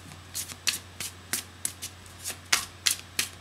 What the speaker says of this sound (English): Don't you make me shuffle forever.